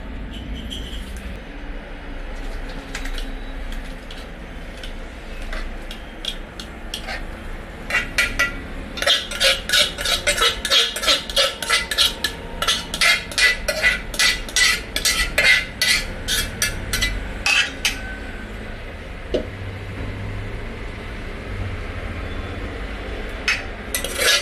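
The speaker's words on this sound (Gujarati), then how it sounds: "ભાતિયામાં કાઢી લેશું ભાતને." Cooked rice for dal bhat is scooped from a pot into a serving vessel, with a steady run of metal spoon scrapes and clinks against cookware, densest in the middle.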